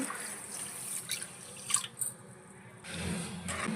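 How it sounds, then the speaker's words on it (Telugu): Water pours into a pan of sugar to make syrup for motichoor laddu, a soft trickling splash with a few drips, close and quiet, with no one talking. "ఇందులో వాటర్ వేసుకున్నాం"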